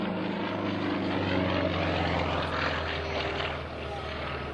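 A Yak propeller aerobatic airplane performs at the 2004 Dover AFB open house airshow, its engine droning steadily and loudly throughout with a slight rise and fall as it maneuvers.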